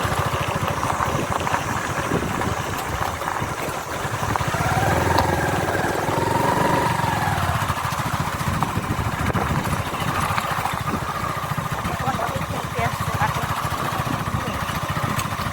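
Auto rickshaw engines idle in an open field as vehicles wait to depart, a steady mid-pitched mechanical rumble that swells slightly midway, mixed with outdoor background and voices.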